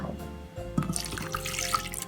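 Plain water pours and splashes into a cooking pot holding cornstarch, a close, steady trickling stream with small drips.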